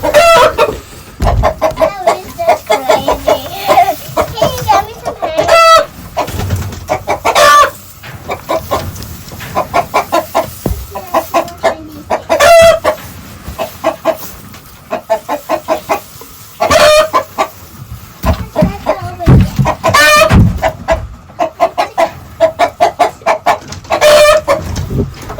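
Backyard flock of chickens clucking steadily at close range while a rooster crows repeatedly through the morning feeding, the calls loud and overlapping with occasional rustling.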